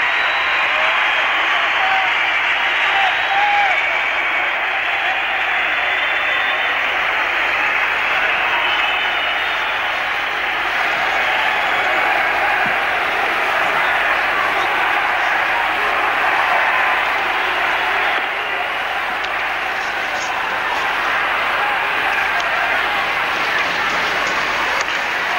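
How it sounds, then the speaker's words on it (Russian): Sustained applause and crowd noise from a packed ice hockey arena at the 1980 Olympic USSR–USA game fills the space as a steady, dense roar of clapping, with no pauses. "Аплодисменты Мышкину."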